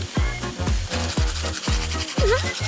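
Toys are scrubbed in a sink with soap and water, making repeated rubbing strokes under a steady, thumping musical beat.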